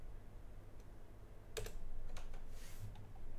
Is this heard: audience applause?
no